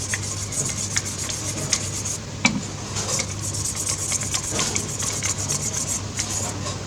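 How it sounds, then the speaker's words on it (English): Scrubbing inside a dirt bike throttle tube to fix a sticky throttle, a steady close-up rubbing rasp with repeated strokes and a few sharper ticks, no talking. "Dip your thing in and give it a scrub in the inside."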